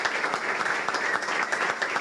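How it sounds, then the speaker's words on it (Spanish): Steady, loud audience applause at a Cambiemos political event in Paraná, a continuous dense burst of many hands clapping with no pauses, heard on its own without speech. "les pido un fuerte aplauso"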